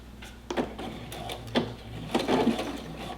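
A sewing machine runs a seam with a soft mechanical hum, broken by a few sharp clicks and knocks that sound close and moderately loud.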